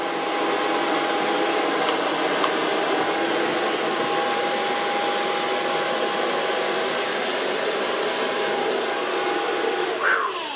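A hair dryer blows steadily while drying a client's hair during a pixie haircut styling session, a continuous close whooshing roar with no voices.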